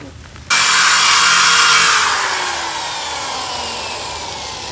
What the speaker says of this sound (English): Like at a high grade with the grinder and working my way down.